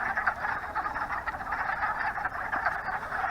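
A dense chorus of frogs croaks steadily outdoors, many voices overlapping into a continuous trilling wall of sound at moderate loudness, with no talking.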